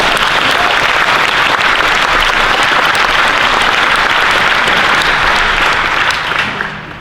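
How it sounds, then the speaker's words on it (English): A large crowd at the Netroots Nation 2018 conference in Jackson, Mississippi gives the young people from Parkland, Florida a long, loud round of applause, steady and dense before it tapers off near the end. "Please give them a round of applause."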